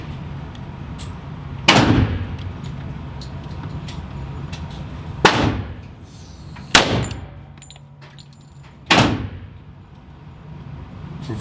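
Four loud, sharp pistol shots from an FNX 45 Tactical .45 ACP handgun fired outdoors at a range, spaced irregularly a few seconds apart, each ringing out over faint background noise with no speech.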